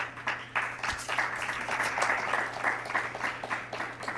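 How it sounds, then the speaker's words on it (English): An audience at a podcast event in a fire department hall claps together, a dense, lively burst of hand clapping that holds steady for several seconds with a low hum beneath it. "Can everybody clap for Joe's mom"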